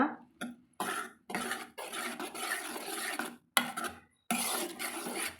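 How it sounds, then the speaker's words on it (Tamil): Cooked green gram dal being mixed with chili powder in a pan, heard as several short bursts of scraping and rubbing from a spoon, separated by brief pauses. "இப்போ நம்ம அந்த பருப்பு எடுத்து இதில் சேர்த்துக்கலாங்க சேர்த்துட்டு நல்லா கலந்து விட்டுக்கலாங்க"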